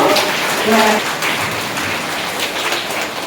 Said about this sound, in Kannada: ನೋಡೋಣ ಒಂದೇ ಚಪ್ಪಾಳೆ